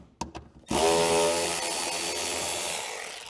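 A power tool whirs steadily while backing out a fender liner bolt on a BMW E92, starting after a couple of brief clicks and running loud and close with a slowly falling pitch for about two and a half seconds.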